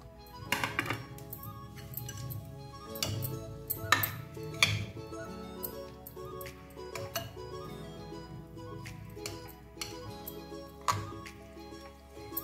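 Chopped green chillies, carrot, coriander leaves, tomato and capsicum being stirred in a bowl for an oats egg omelette, heard as soft, quiet clinks and taps of a spoon against the bowl in an irregular rhythm.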